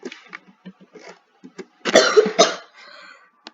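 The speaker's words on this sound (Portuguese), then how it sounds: "minha tosse aí" A couple of harsh, close coughs from someone with flu burst out in the middle, framed by quieter clicks and faint mouth sounds before and after.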